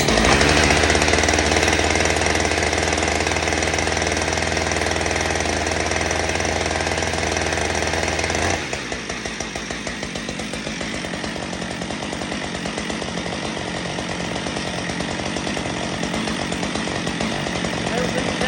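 A Husqvarna 562XP chainsaw after a piston swap, its engine running loud and buzzy, then dropping abruptly to a rougher, pulsing idle that continues steadily.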